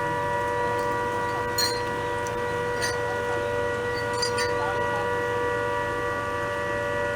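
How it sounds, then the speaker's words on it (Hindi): A civil defense siren sounds for a war-time mock drill at a police lines ground, holding a steady wailing tone with constant hum throughout, with faint bird-like chirps briefly rising above it. "ये सायरन है जो शाम को निर्धारित समय पर बजेगा"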